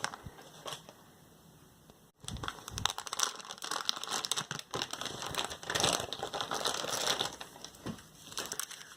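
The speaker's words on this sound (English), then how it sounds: "let's just take a look in this accessory packet" Plastic packaging of a US MRE accessory packet (Menu 24, Southwest Style Beef and Black Beans) being torn open and rummaged through, with a sharp rip followed by bursts of close crinkling and rustling.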